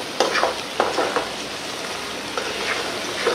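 Prawns frying in ground spice paste in a pan give off a continuous close sizzle, punctuated by a few sharper stirring scrapes and bubbling pops, with no voices.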